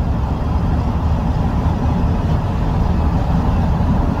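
Steady, loud road rumble comes from inside a van fitted with a custom topper as it cruises at about 55 to 60 mph on a highway, a constant low drone with no breaks.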